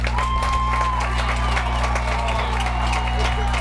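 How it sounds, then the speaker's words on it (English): Stadium crowd at an NPSL soccer playoff match between the Erie Admirals and Quad-City Eagles FC, cheering and clapping in a steady, dense roar that fills the whole stretch, with a faint murmur of voices mixed in. "that brings the crowd to life a little bit here"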